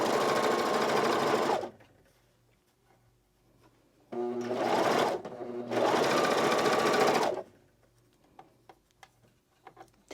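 A serger overlock machine stitches a seam on a tee shirt, running loud and close in a short burst, then in a longer whirring run broken by one brief pause, with quiet handling between runs.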